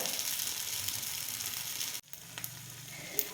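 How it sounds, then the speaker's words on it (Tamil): Appam batter cooking on a pan over a medium flame, giving a steady sizzle that breaks off abruptly near the two-second mark, then returns quieter with a few small clicks. "இந்த மாவை அழகாக அதில் ஒரு கரண்டி நாம் அப்படியே சேர்த்துக்கலாம் மீடியம் ஃப்ளேமில் ஒன் சைடு நல்லா வேகட்டும்"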